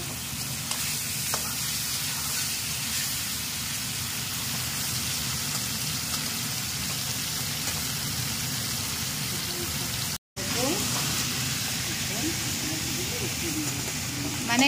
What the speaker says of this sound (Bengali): ওই জন্য চিংড়ি মাছ অল্পই ফ্রাই করবো।